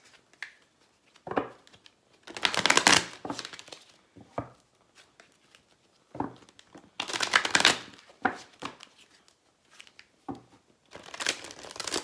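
Oracle cards from a romance angels deck being shuffled and pulled, with repeated bursts of crisp riffling and sliding card noise separated by short quiet pauses, close and fairly soft, with no talking.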